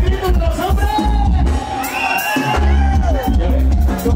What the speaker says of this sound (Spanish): A ver, el grito de los hombres.